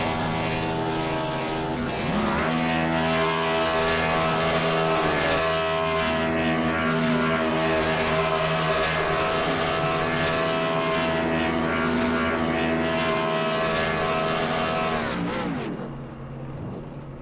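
A Gen 4 stock car in iRacing roars down the front straightaway at New Hampshire, its engine holding a loud, steady harmonic drone before easing off near the end.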